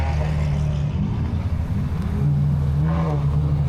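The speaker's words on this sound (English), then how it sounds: "this Ferrari 812 was insanely loud" A Ferrari 812 V12 at a German car meet revs loudly and close by, a deep throaty roar that swells with each blip of the throttle and stays dominant throughout.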